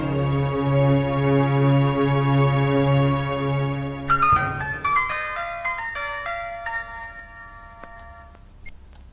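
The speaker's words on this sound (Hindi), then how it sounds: "तुम्हारे लिए फोन है।" A tonal phone ringtone plays a repeating sustained pattern, then shifts into a brighter chiming melody that gradually fades out.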